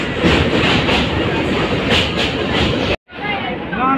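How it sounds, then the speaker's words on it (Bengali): Heard from inside a train arriving at Dakshineswar: a loud, steady rumble and clatter of wheels on track, a sudden brief cut, then quieter carriage noise with faint voices. "চলে এলাম দক্ষিণেশ্বর, এবার নামবো ট্রেন থেকে।"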